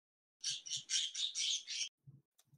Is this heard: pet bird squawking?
yes